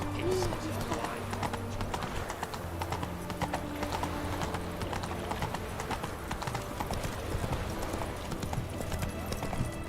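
Hooves of the horse Roach clip-clop in an even rhythm in The Witcher 3, close and steady under in-game voices talking, with a brief whinny near the start.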